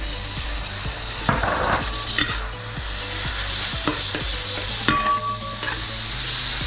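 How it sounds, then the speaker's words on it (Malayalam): Tomatoes are stirred into a sizzling chicken roast masala in a pan, with a constant hiss, repeated scraping strokes and a few sharp clinks of a spoon against metal. "തക്കാളി ചേർത്ത് നന്നായിട്ടൊന്ന് മിക്സ് ചെയ്തിട്ട്"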